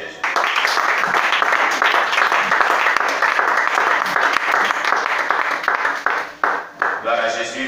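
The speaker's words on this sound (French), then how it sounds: "On acclame le Seigneur Jésus." A church congregation applauds during a worship service, dense sustained clapping for several seconds that thins and breaks up near the end, with voices mixed in.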